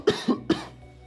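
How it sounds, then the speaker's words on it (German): Three quick, close coughs in a row, dry and abrupt, after drinking clove tea, with no talk around them. "jetzt, wo ich den Tee getrunken habe, muss ich die ganze Zeit husten."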